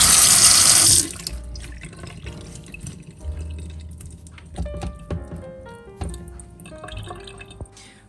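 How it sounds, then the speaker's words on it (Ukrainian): Cold tap water runs steadily over fresh strawberries and blueberries soaked with baking soda, a loud rush at first that settles into softer splashing and dripping in a sink, with no talking. "та холодною водою заливаю"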